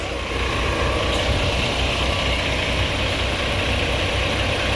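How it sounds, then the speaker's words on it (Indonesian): A new Padang-Jakarta intercity bus, dusty from Sumatra roads, idles with a steady low diesel rumble, close and continuous, with faint background noise. "Bunyi mesinnya juga gurih sekali, teman-teman."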